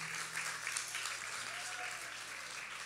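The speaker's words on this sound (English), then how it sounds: "I wanted to give the players from the Shiv Gana organization a lusty round of applause." Audience applauding the Ram Leela players at a Hindu college's Ram Leela presentation night, a steady, moderately loud burst of clapping lasting about three seconds with no clear voices.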